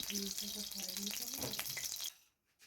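Oil frying in a wok-style kadai, a steady bright sizzle filling the first two seconds with some stirring scrapes, then cutting off to near silence.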